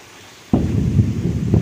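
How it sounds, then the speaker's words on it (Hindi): Deep thunder rumbles in during heavy rain, a sudden loud low roll that swells in and keeps rumbling steadily to the end after a quieter start. "अभी भी बादल गरज रहा है"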